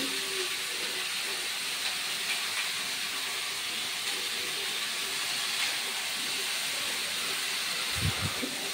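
Five-spice tempering sizzling in hot mustard oil, a steady bright hiss and crackle that holds evenly throughout, with a brief low thump near the end.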